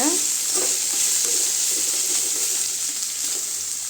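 Chopped chayote (chow chow) frying in a pan for a poriyal, with a steady close sizzle and bursts of scraping as a spoon stirs it, no talking.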